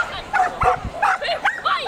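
Shetland sheepdog at an agility competition giving short, repeated yips and barks, several quick bursts over roughly two seconds, fairly close, with a noisy crowd and event background behind.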